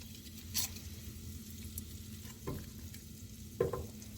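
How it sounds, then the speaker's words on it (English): Unsalted butter melts in a pot with a quiet, steady sizzle, broken by a few soft spatula scrapes. "we're going to melt 4 tablespoons of unsalted butter"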